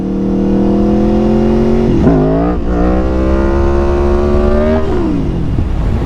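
A motorcycle engine revs hard toward 5,000 RPM in first gear for a power wheelie, loud and close, with a steady rising drone that dips around two seconds, climbs again, then drops back near the end.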